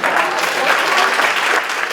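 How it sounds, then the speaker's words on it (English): Sustained applause from a large audience at a Richmond Crusade for Voters anniversary gathering, dense and steady for the full two seconds with no pauses. "Give yourselves a round of applause."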